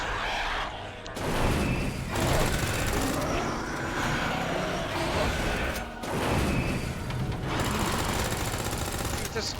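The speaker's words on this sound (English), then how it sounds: "I'm just going to use all my SMG ammo." Rapid SMG gunfire in a video game, sustained bursts of fast automatic shots with brief pauses between, mixed with game effects and a voice talking.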